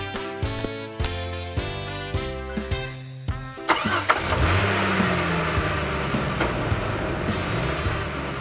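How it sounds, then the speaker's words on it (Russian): A cartoon jeep with big wheels and a powerful motor cranks into life after a few bouncy music notes, then settles into a loud, sustained revving roar. "Джип – это машина повышенной проходимости. У него большие колеса и мощный мотор."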